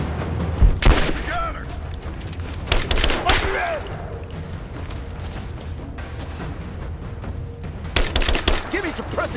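Gunfire in the video game Rise of the Tomb Raider: rapid bursts of shots and booms in clusters, with voices shouting over the firefight and sustained noisy battle ambience in between.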